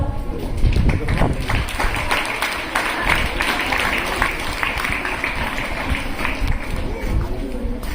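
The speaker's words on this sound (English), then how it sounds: "A big round of applause." Applause at a school Independence Day celebration for a student prize winner, steady clapping from a crowd that carries on through the whole stretch with voices mixed in.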